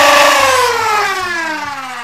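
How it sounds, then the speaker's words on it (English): Nerf Stryfe X flywheel blaster revving, a loud high whine with a falling pitch sweep as the flywheels spin, heard alone and close. "it revs up super fast. Way faster than any stock Nerf flywheeler"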